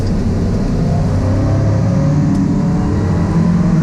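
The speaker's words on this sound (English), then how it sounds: "Oh, and I've got a race car coming behind me" A race car runs on the track at Road Atlanta, its engine a steady, loud drone heard from inside a Jeep Grand Cherokee Trackhawk with the windows up, holding even throughout.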